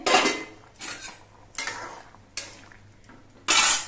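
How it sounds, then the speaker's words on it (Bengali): A lid lifted off a pot of boiled jackfruit seeds, with five sharp metallic clanks and scrapes spaced through the moment, each decaying quickly, close and fairly loud with no talking. "এবার ঢাকনাটা খুলে নিচ্ছি"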